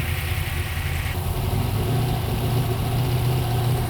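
A Mustang engine idles rich and a bit rough, a close, steady low-pitched rumble with a slight shift in tone partway through and no talking.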